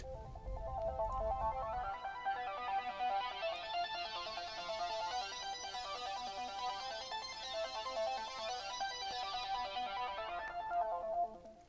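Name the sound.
synthesizer build with filter and chorus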